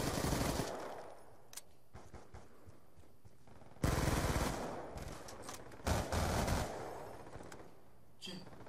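Machine gun fire in the video game Call of Duty: Black Ops 2 comes in several sharp, loud bursts, separated by quieter gaps filled with faint background sound.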